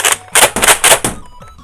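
A Nerf Fortnite TS tactical shotgun blaster slam-fires several rapid shots in quick succession, each a loud, sharp mechanical clack and thump close up, followed by fainter rattling handling.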